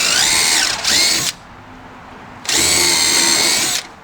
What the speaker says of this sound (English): And then drill a couple pilot holes just so it doesn't split.